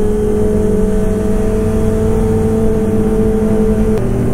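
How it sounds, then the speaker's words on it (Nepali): Two motorbikes on a road in Japan run with a steady, droning engine hum, loud and close throughout, with no talking. "साउन्ड आएको के त्यो दुईटा बाइकको"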